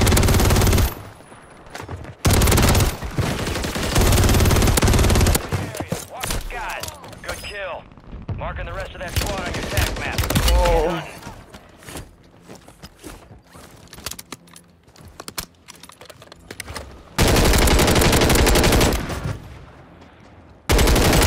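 Video game gunfire rattles in bursts as a player comes under fire from the other side, loud automatic volleys broken by quieter stretches of clattering mechanisms and gear handling.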